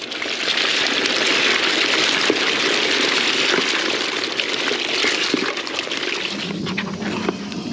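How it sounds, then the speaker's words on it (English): Water gushes steadily over a load of live crawfish being purged, a loud continuous splashing rush that runs for several seconds before tapering off, with no voices. "Let's go ahead and start purging these crawfish."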